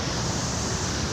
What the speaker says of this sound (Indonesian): Kita langsung menyaksikan ombak. Jadi di atas bukit Batu, kita akan melihat deburan ombak yang begitu ganas.